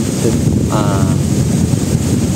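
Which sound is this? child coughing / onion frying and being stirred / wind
wind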